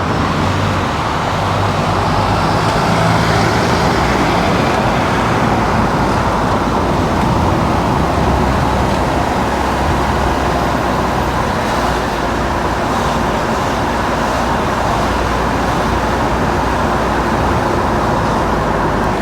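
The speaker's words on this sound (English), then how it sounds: "I drive a diesel, so they're normally a little bit louder, the old diesel engines" An old diesel car engine drones steadily from inside the cabin while driving through city traffic on rat runs, a loud continuous rumble with road noise and no gaps.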